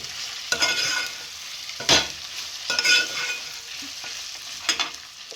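Pieces for an egg paneer pulao fry in a pan with a loud, steady sizzle, broken by several scraping bursts of stirring. No one speaks.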